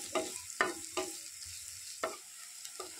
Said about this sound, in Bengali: আদা রসুন আর পেঁয়াজটা ভালো করে একটু ভেজে নেবো।